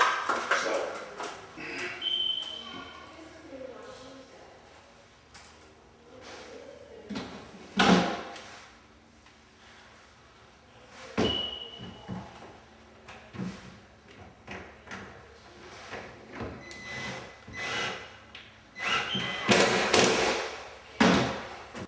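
Heavy cabinet door being lifted, positioned and fitted onto six-way adjustable hinges, giving irregular wooden knocks, taps and a few sharp clunks with scraping handling noise between them, close by.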